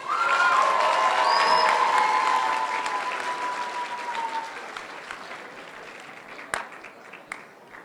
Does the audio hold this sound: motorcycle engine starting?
no